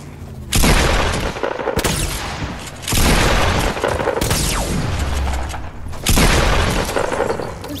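Bursts of video game gunfire, loud and close, arriving in three heavy blasts with rattling debris and rumble between them, no talking over it.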